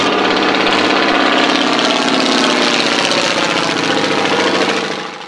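A 220 horsepower Continental radial engine on a Fokker Dr.I triplane replica runs loudly and close by with a throbbing, uneven idle, then begins to fade near the end.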